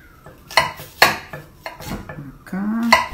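Knife strokes chopping onion on a cutting board in a home kitchen, several sharp close clicks and taps at an irregular rhythm with no talk over them.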